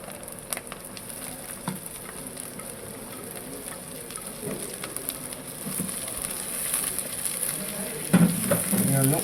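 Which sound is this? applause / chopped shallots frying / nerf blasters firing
chopped shallots frying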